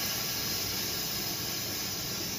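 Steady, continuous hiss of gas venting through the release valve of a Moodcocktails soda water machine, constant in level for the whole stretch, close by, with no talking.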